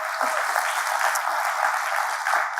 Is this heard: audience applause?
yes